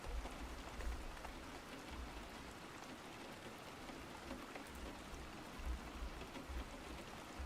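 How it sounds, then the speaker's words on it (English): Recorded rain plays as a steady, even hiss of falling drops with a low rumble beneath, soft and unbroken throughout, with no talk. "I decided to stream with rain sounds this time."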